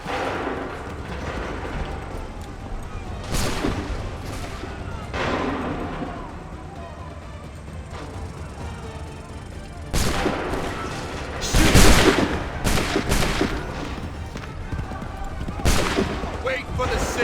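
Musket volleys and cannon fire in Assassin's Creed III: repeated sharp gunshots and heavy booms burst out in clusters, loudest near the end, over a continuous battlefield rumble with shouted voices mixed in.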